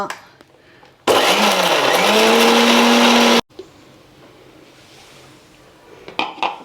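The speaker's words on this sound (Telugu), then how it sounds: "ఇట్లా వేసి ఫస్ట్ మిక్సీ కొట్టేస్తా" A kitchen mixer grinder roars loudly for about two seconds with a whining motor pitch, grinding batter for black urad dal vadas, then cuts off abruptly into quiet room tone.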